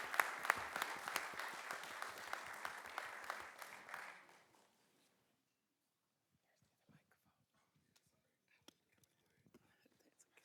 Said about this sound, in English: let's give him a first round of applause